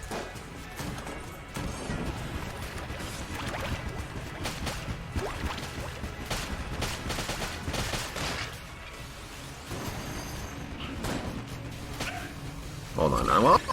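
Rapid bursts of gunfire and crashing impacts from the roguelike shooter Enter the Gungeon during a boss fight, fairly dense and continuous with a sharper burst at the end, while someone talks over the action.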